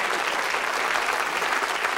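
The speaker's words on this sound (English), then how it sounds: "Give them a round of applause, folks" Studio audience at a 1979 game show clapping, a dense, continuous wash of applause filling the whole stretch without letup.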